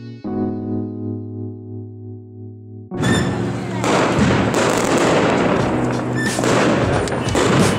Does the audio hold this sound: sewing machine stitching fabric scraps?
no